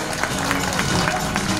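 Audience at a Korean Joseon Tongsinsa ship departure ceremony claps to welcome a guest, a brief burst of dense, fairly close applause with distinct hand-claps standing out over a steady wash.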